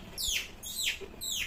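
A child whistles in imitation of a bird call, giving three quick, rising-then-falling chirps spaced evenly apart. The sound is fairly faint and heard alone.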